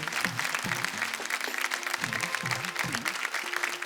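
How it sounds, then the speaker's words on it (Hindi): Audience applause on a TV folk-singing reality show stage, a sustained dense clapping from a crowd that carries on evenly throughout, with some faint tonal music underneath. "तो भाई जोरदार तालियां एक बार फिर"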